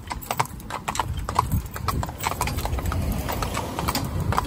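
A pair of horses clip-clops steadily while pulling a carriage, the hoofbeats crisp and rhythmic over a low rumble of wheels and harness.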